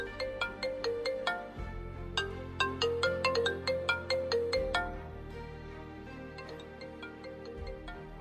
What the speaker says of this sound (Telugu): ఈ విధంగా సింపుల్గా మీ నేమ్తో రింగ్ టోన్ అనేది తయారు చేసుకోవచ్చు